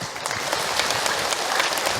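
An audience at a religious talk by Ustaz Hilman gives a brief round of clapping, a dense, steady patter of many hands for about two seconds with no voices over it.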